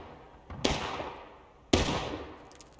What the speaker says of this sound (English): they're aiming the cannons right now